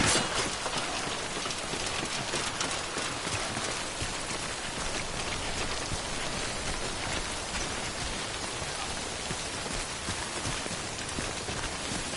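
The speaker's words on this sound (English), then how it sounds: "Don't stay out in the rain any longer than you have to." Timefall rain from the video game Death Stranding pours down steadily as a dense, even hiss, continuous and loud, with no voices.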